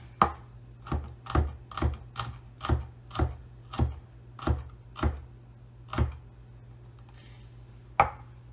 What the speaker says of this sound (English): Then all you do after that is just chop it up real fine.